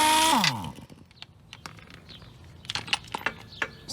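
Power tool spinning out an 18 mm bolt from the motor mount of a Buick LeSabre: a loud whirring burst winds down in under a second, followed by scattered metallic clicks and clinks from the tool and parts.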